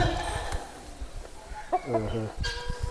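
A chicken on a village farm clucks a few short times, close by, amid faint background voices and outdoor noise.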